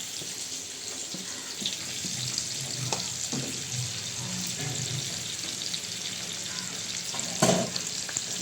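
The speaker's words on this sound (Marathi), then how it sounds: "बघा कसा फ्राय होतो" Tiny kolim shrimp with masala frying in a pan give a steady, close hiss and sizzle throughout, with occasional soft clinks and stirring scrapes, no talking.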